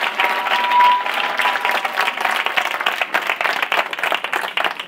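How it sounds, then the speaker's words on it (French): Audience clapping at a surf event, a steady dense patter of many hands held at an even level for several seconds with no talking over it. "Alors, un petit applaudissement,"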